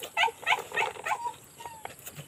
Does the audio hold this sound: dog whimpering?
yes